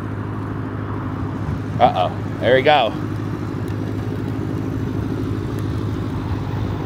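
A motorcycle ridden through a Philadelphia street near a bus stop by a rider dressed like the Joker, a steady mid-pitched engine drone under city traffic, with people briefly talking over it.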